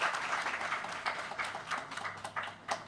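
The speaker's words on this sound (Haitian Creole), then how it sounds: "Vos applaudissements, s'il vous plaît." Audience applause at a live stage event, a sustained dense clapping from a crowd, close and loud, continuing for several seconds with scattered sharper claps.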